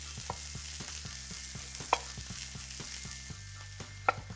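Pot roast meat browning in a pan, giving a soft, steady sizzle under faint background music, with a couple of sharp clinks or taps standing out, and no talking.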